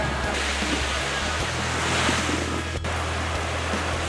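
Steady light wind and surf noise at a sea shore during kiteboarding with an 18 m Airush Lithium kite, a continuous broadband wash with low rumble and no talk.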